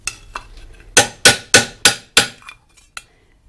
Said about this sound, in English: I'm hammering with a metal hammer on a metal stake.